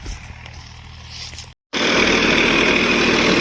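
A tractor engine running close by on a farm, a steady, loud rumbling roar that cuts out briefly and then returns at full strength.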